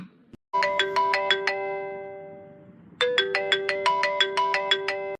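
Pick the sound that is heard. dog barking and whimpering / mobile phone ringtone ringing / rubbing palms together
mobile phone ringtone ringing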